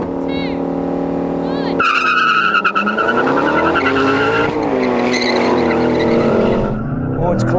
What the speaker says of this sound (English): dump the clutch, hopefully it'll spin up its wheels a bit and won't bog